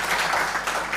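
Audience round of applause at a team showcase, a continuous, moderately loud wash of many hands clapping together, brief and steady with no voices over it.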